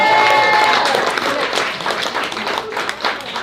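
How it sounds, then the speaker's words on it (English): Crowd clapping for a reader at a queer arts festival offsite event, lively applause with cheering voices at the start, gradually thinning toward the end. "Everyone clap for Chris again"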